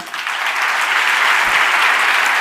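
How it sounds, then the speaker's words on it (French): Loud, dense audience applause fills the hall continuously at a Swiss science-communication competition final, steady throughout with no voices rising above it. "Merci d'applaudir Désirée Koenig."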